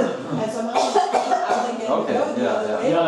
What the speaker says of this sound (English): Everybody start to cough.